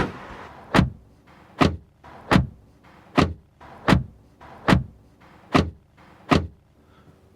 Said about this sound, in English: So pretty solid sound for the doors